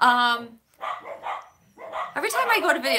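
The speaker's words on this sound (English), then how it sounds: "my dogs will go nuts the minute I do something that requires me to have silence in the background" Dogs bark and yip indoors in a room, short sharp outbursts that break through and overlap a person talking.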